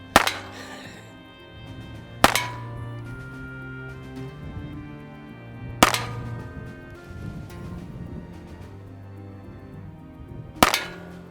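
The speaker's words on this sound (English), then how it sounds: "Caleb's gonna give the Heritage Rough Rider Rancher a try" Heritage Rough Rider Rancher revolver fired one-handed at targets outdoors; four sharp, loud single shots spaced a few seconds apart, each with a short ringing decay, and faint background sounds in between.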